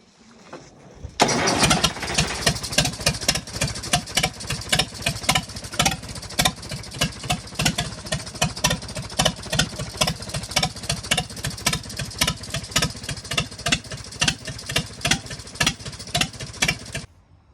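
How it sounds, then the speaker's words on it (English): An A414 tractor engine cranks and fires up after repair, then settles into a loud, steady idle with a rapid, even pulsing beat that runs without a break, close by and alone. "I'll stick a video in of the first crack at starting it when it was fixed"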